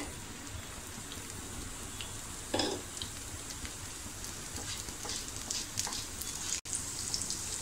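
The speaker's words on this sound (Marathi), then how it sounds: "जिरं आपल्याला तडतडायला द्यायचं आहे।" Cumin seeds crackling in hot oil in a pan before mushroom and peas masala is added, a soft continuous sizzle with faint scattered pops and one brief louder stir or clink.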